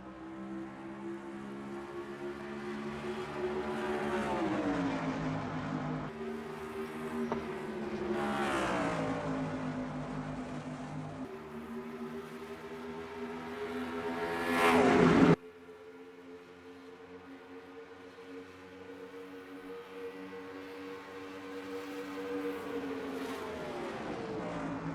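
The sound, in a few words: race cars at the start of a race, from a video game (NASCAR Racing 2003)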